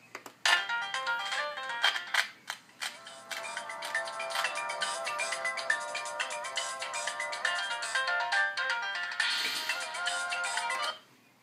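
A music piece plays through Toshiba laptop speakers, a bright, thin melodic tune with busy notes and chords lasting about eleven seconds, close and steady without speech.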